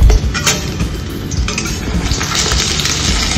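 Chicken pieces fry in hot oil in a pan, giving a steady close sizzle with a few metallic clinks of a utensil against the pan.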